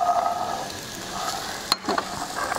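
Boiled chickpeas go into onions frying with turmeric and are stirred. A steady close sizzle runs under scraping from the spoon, with a brief sharp clatter near the end and no talk.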